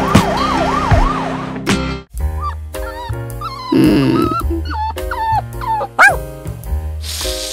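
An ambulance siren in the Roblox game Brookhaven wails loudly in a rising and falling sweep for about a second, then gives way to whimpering, dog-like tones, musical beeps and game effects.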